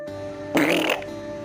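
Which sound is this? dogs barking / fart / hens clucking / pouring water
fart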